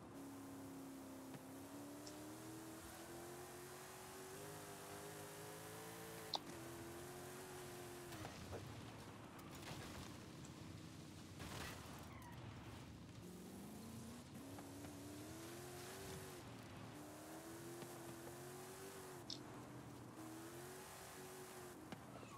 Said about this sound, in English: If I have a chance to keep it wide open, listen to the engine